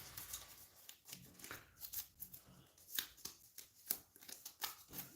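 A deck of game cards being shuffled at close range for a Cryptids vs. Cryptids card game: repeated crisp riffling bursts and soft slaps in uneven rhythm, quiet and alone.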